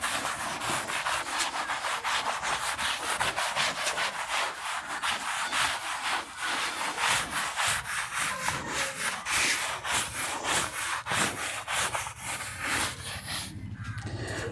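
A whiteboard being rubbed clean with an eraser in a classroom, a steady scratchy swishing that continues back and forth for the whole stretch, close and fairly loud, with no talking over it.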